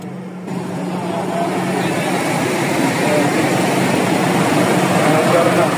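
A Toyota 1RZ engine with a starting fault catches and runs. After a brief quieter moment, a loud, continuous rumbling drone fills the space and holds steady, growing slightly stronger toward the end.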